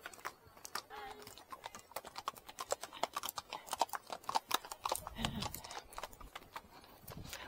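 Horse hooves clip-clop at a steady walking rhythm on a hard surface, close by, while people talk quietly.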